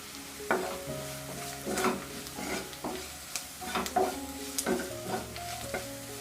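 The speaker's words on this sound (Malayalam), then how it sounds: "മുളക് പൊടിയും മല്ലിപ്പൊടി ഒന്ന് മൂത്തിട്ടുണ്ട്" Onions sizzle in hot oil with coriander and chilli powder as a spoon stirs them, scraping against the pan in repeated close strokes over a steady fry.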